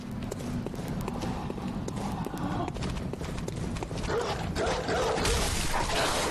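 Dogs in the video game Bloodborne come running, with clattering footfalls and barks over a busy, rushing game soundscape that builds louder toward the end.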